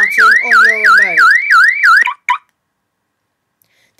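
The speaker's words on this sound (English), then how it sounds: "If someone were to come and touch my Mac now, the alarm would go off" A loud Mac security app alarm wails in a rapid rising, repeating sweep about six times, then cuts off abruptly, leaving near silence.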